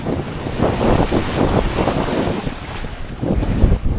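A sailboat runs fast through wind and ocean swell between Hilo and Honolulu, with loud gusting wind buffeting the microphone over rushing water and surging waves, no voices.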